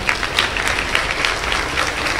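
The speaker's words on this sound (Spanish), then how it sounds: "Aplauda al Señor." A church congregation applauds during a mass prayer service, dense, loud, continuous clapping from many people filling the room throughout.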